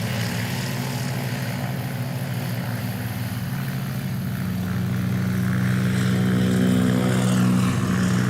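A PZL Wilga propeller aircraft rolling by at a STOL competition, a loud steady droning engine hum with a strong low tonal buzz that swells slightly louder as it passes.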